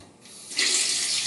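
Water from a kitchen sink tap starts running partway through to wash vegetables, a soft trickle jumping into a bright, steady splashing stream close by.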